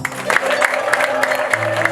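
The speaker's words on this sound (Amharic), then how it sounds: "ጭብጨባ ለጌታ።" Protestant church congregation clapping together for the Lord during worship, a steady rhythmic round of handclaps about every third of a second, loud and close, with a held tone beneath.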